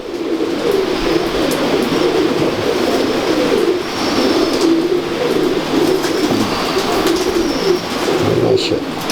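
Pigeons coo in low, throaty repeated calls against a dense, constant background rumble, near and fairly loud throughout.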